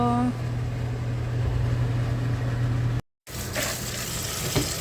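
Kitchen sink tap running as food is rinsed for a potato salad and spaghetti meal, a steady close hiss of water with a brief cut midway, then more splashing and clatter.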